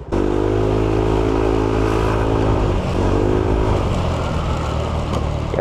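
A Yamaha Aerox v1 scooter with new roller weights, center spring and clutch spring revs hard, its loud buzzy engine note holding high, dipping briefly, then climbing again, close up and continuous.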